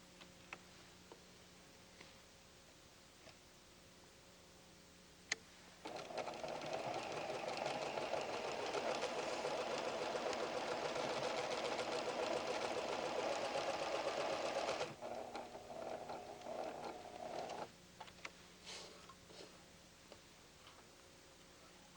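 A PFAFF creative 7550 sewing machine stitches leaf shapes into fabric with a steady, fast mechanical whir and ticking lasting about ten seconds, then a brief slower run, with quiet clicks before and after.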